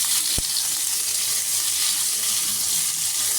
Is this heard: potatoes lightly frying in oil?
yes